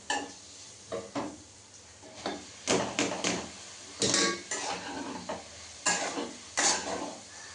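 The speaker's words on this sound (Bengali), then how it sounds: "দেখো এটা ভেজে নিলাম সুন্দর করে" Egg and chicken being fried in a pan for pasta, with repeated scraping and clattering of a utensil against the pan in short bursts over a faint sizzle, fairly close, no talking.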